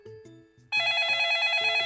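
A telephone rings in a home, starting loud and steady a moment in, with a sustained bright ringing tone. Softer tonal sounds come before it.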